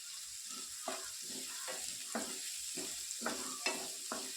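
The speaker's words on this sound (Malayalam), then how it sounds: "സവാള അത്യാവശ്യം വഴണ്ട് കുഴഞ്ഞു വരുന്ന ആ ഒരു പരുവം വരെ മാത്രം വഴറ്റുക" Onions sauté with salt in a pan: a soft, steady sizzle with a series of gentle scraping stirs at irregular intervals, close by and fairly quiet.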